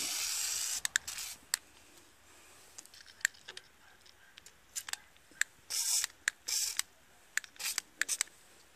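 Lubricant sprays in repeated short hissing bursts onto a Craftsman 928 snow blower, mixed with clicks and mechanical handling noises close by.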